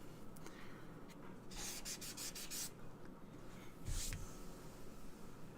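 Sandpaper rubs against a wood-burning blank prepared for a portrait, with steady scratchy strokes throughout and louder bursts of friction partway through and again near the end.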